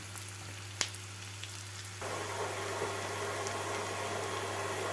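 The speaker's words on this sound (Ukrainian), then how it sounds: "Цибулька вже так гарно у нас прокипіла, навіть починає змінювати колір" Chopped onions sizzle steadily in a pan, with a quieter bubbling for the first two seconds before the frying swells into a dense, even hiss that carries on alone.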